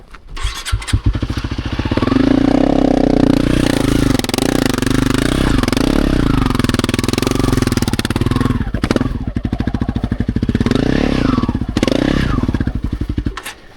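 Dirt bike engine on a trail ride in Sundown National Park, loud and close, its note rising and dipping as the rider works the clutch over an obstacle, with thumps and clatter from the bike.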